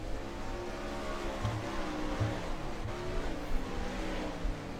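Number 9 World of Outlaws sprint car rolling out for qualifying at Limaland: a steady, droning engine note with small surges and a few low thumps, moderately loud and close.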